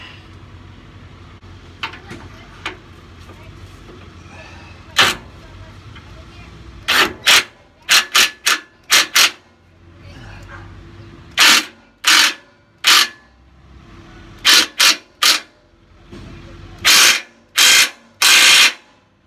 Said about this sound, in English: Gotta back that bolt out a little bit.